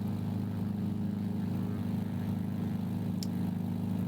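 A Mooney propeller plane's engine in a flight simulator game, a steady low droning hum that holds unchanged throughout, loud and continuous with no speech.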